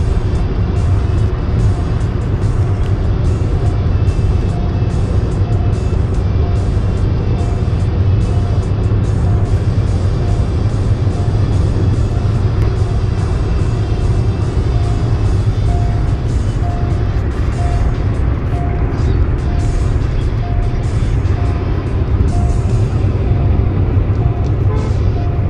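Car cruising at high speed on the Purvanchal Expressway, heard from inside the cabin as a loud, constant roar of road and wind noise with a steady low engine drone.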